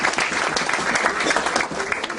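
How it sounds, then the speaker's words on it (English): Audience applause fills a dinner hall, a steady dense clapping from many hands that holds at an even loudness for the whole stretch, with no voices on top. "that should be applauded"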